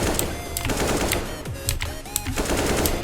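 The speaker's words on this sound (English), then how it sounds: "I'm just pre-shooting or pre-firing where they're going to be" Counter-Strike: Global Offensive rifle pre-firing: dense rapid automatic gunfire bursts, loud and close, continuous through the clip with sharp mechanical clatter.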